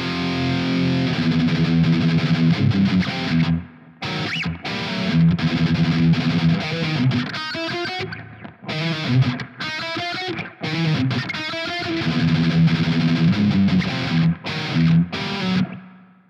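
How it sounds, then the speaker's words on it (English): Heavily distorted high-gain electric guitar plays chugging chords and lead runs, loud and saturated, with brief gaps between phrases. "Oh, that sounds awful with the high gain."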